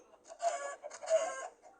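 Several Minecraft chickens cluck in two short bursts, fairly close and moderately loud, with no talking.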